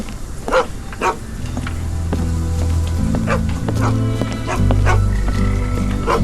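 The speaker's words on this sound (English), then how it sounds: "There are dogs." Dogs bark repeatedly in a fisherman's quarter, a few sharp, fairly close barks over a low rumbling ambience with music-like tones.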